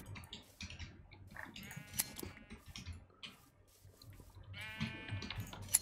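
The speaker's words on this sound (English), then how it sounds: "There's sheep over here as well?" Sheep in the Minecraft video game give two faint, wavering bleats a few seconds apart, mixed with light clicking and ticking sounds.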